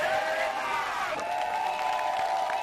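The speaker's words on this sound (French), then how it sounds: "C'est une foule immense venue écouter le porte-parole du gouvernement RD" A large crowd gathered outdoors in Matete, Kinshasa, to hear the Congolese government spokesman, a steady murmur of many voices with tonal shouts and a brief cheer, loud and continuous throughout.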